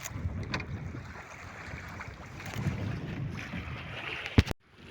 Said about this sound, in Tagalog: Tapos napakalaki ng mga alon.